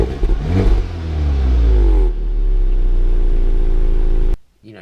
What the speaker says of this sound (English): Sounds pretty good, the exhaust.